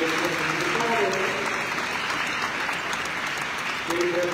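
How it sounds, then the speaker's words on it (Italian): A church congregation claps during a solemn mass for the feast of San Sebastiano, a steady wash of applause that swells slightly and then fades, with a voice speaking faintly over it. "Facciamo un bel applauso anche per la Polizia Municipale."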